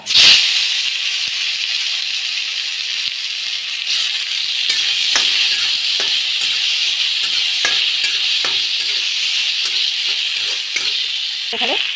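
Chopped tomatoes tumble into hot oil seasoned with panch phoron and green chilli for a sweet chutney, giving a loud, steady close sizzle with occasional stirring taps against the pan.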